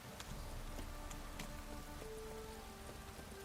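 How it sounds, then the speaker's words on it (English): Steady rain in The Witcher 3 video game patters across a surface, a dense hiss of drops with a few brighter individual splashes, continuous throughout. "Looks like rain."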